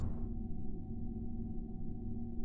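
A low, steady droning hum with a faint tonal whine holds constant throughout, the spaceship background ambience from Kerbal Space Program's Chatterer mod.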